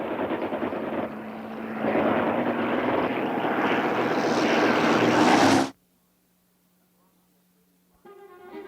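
A World War I Red Baron triplane careens toward the ground with a loud, roaring engine drone that builds and then cuts off abruptly, followed by near silence and a faint new sound at the end.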